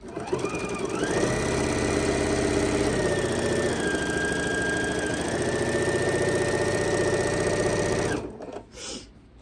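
A sewing machine stitches binding onto a quilt, running in one long steady, loud hum with a rapid mechanical needle rhythm that shifts pitch slightly partway through, then stops abruptly near the end, leaving faint handling noise.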